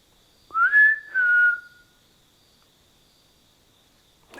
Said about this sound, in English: can you whistle back to me?